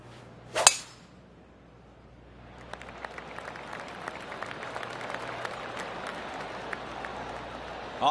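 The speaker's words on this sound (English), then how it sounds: "I can hear the golf claps around the course." Golf gallery applause in a PGA golf video game: a sharp burst near the start, then a few seconds of scattered, distant clapping spread around the course.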